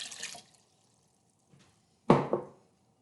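Liquid pours in two short splashing bursts, the first a brief hissy trickle and the second a louder gurgling pour that quickly stops, with near silence between them.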